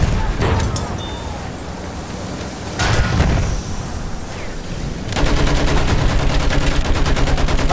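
Enemy machine gun fire in the video game Battlefield 1, rapid bursts of gunshots in a dense battle din, growing heavier and more continuous toward the end.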